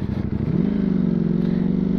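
A Ducati Streetfighter V4S with a 1103 cc engine runs loud and close, its deep burbling idle settling into a steady, even drone after a brief shift at the start.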